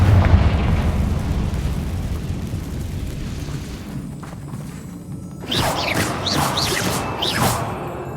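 A Confringo fire spell from Hogwarts Legacy bursts into a loud, sharp explosion with crackling debris, following a stretch of low rumbling ambience, with no talk over it.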